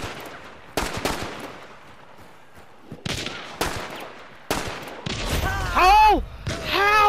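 Pistol shots ring out in a video game match in sharp, loud bursts with gaps between them, mixed with other game gunfire and effects that grow busier and louder toward the end.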